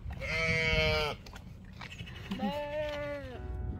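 Sheep bleat outdoors in fair weather, two drawn-out, wavering calls close by, separated by a short pause, over a low rumble of background noise.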